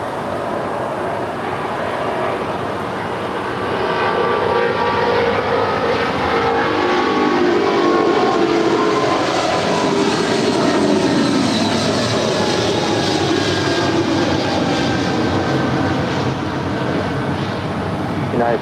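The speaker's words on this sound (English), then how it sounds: "I'm liking these 25 left departures, aren't you guys?" An airliner departs runway 25 left at LAX, a broad, steady jet roar that swells and holds loud across the stretch, with a faint voice underneath.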